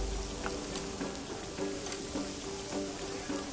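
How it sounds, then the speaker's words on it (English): Continuous crackling sizzle of souvlaki skewers cooking over a fire in a VR game, close and steady, with faint repeated soft clicks underneath. "Just listen to that sizzle."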